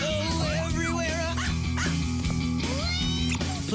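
Puppies bark, yip and whimper in a children's TV commercial, with high, excited cries layered over continuous background music and voices.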